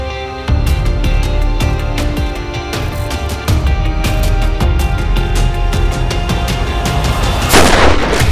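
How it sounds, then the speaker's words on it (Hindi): Rapid repeated gunshots crack out in sharp bursts over a booming, reverberant background, with a loud burst near the end. "आज मुझे गोली चलाने पर मजबूर मत कर पाठक।"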